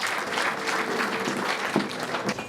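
Sustained applause from a wedding audience, dense steady clapping filling the whole stretch without pause, fairly loud and close.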